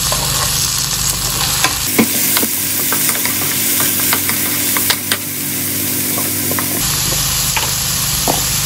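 Tomato dropped into a hot pan while cooking chicken tofu with spinach, giving a loud steady sizzle and crackle with scattered clicks and spatula taps throughout.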